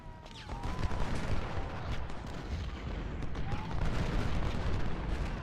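Civil War cannon and rifle volleys in the strategy game Ultimate General: Civil War, dense rolling booms and crackling gunfire from several brigades firing together, continuous and loud.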